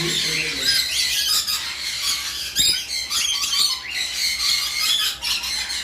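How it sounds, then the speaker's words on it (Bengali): Many caged birds at a bird breeder's aviary squawk and squeal continuously at close range, a dense, shrill chatter with overlapping calls. "রাজেশ ভাই, এখানে আপনার কাছে তো আমরা অনেক পাখি কালেকশন দেখলাম"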